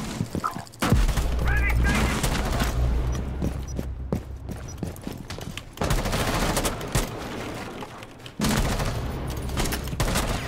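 Rapid bursts of automatic gunfire from the video game Rainbow Six Siege crackle loudly in long sustained volleys with brief pauses, dense and close, while a voice talks at times underneath.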